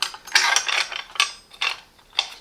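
The red adjustment knob on a Parkside PHKSA 20-Li B3 cordless circular saw is tightened in a series of about five short, crisp ratcheting clicks and rattles, spaced irregularly and heard up close.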